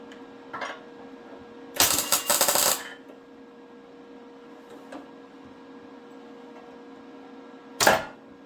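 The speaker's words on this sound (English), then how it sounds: "Put a little weld on the inside here." Welding on the inside of a side scoop for a Dodge Super Bee produces short crackling bursts, one lasting about a second and a brief tack later, over a faint steady hum.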